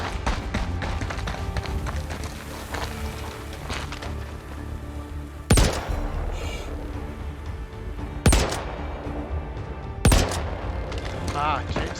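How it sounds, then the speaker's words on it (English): In a Star Citizen PvP battle on Daymar, three sharp, loud sniper shots crack out several seconds apart, standing clearly above a dense bed of ongoing game noise and distant gunfire. "Taking sniper shots."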